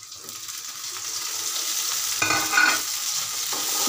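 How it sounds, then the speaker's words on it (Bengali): Dried fish (shutki) stirred and fried with onion in a pan, a steady close sizzle with scraping spatula strokes, loudest around the middle, with no talking. "শুটকিগুলো একটু ভালো করে নাড়িয়ে নেব"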